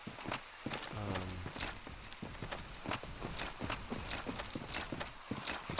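Heavy armored footsteps of the Black Knight in Dark Souls Remastered thud in a steady, rapid clopping rhythm, drawing nearer over a dense game ambience with a brief clank partway through.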